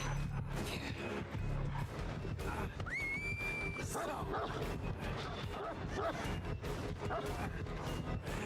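A dog in the horror game Dead by Daylight gives brief barks and yips, half buried in a thick, constant bed of game music and ambience while someone talks.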